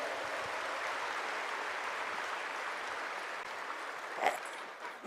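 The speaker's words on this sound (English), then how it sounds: "big round of applause to all the audience who are present here" An audience at a spiritual festival applauds in a steady, mid-distance wash of clapping that holds for about five seconds with no voices over it.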